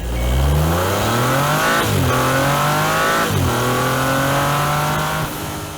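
A 2022 Audi RS5 Sportback's 2.9-liter twin-turbo V6 exhaust with adaptive mufflers revs hard and loud up close, its pitch climbing in repeated pulls with brief dips between, and no voices.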